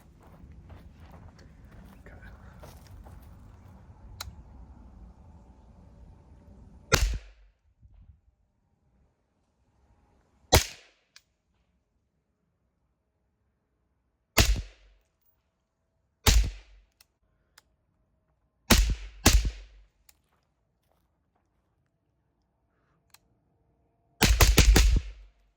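A Noveske 11.5-inch Irregular Defense rifle upper is test fired with sharp, loud cracks, first single shots with long pauses, then a quick pair and a fast string at the end, following quiet talk at the start.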